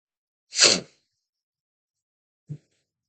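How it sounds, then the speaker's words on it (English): A single loud, close sneeze bursts out, followed by a brief faint sniff or thump, then silence. "I don't know what that sneeze was about."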